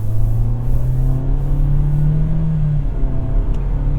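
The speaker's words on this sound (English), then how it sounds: "So if I pull out on this road here and get on the gas," Nissan Kicks with a CVT accelerating from a pull-out onto a road, steady engine drone heard from inside the cabin with a rising tone that drops back once, like a simulated gear shift, under low road rumble.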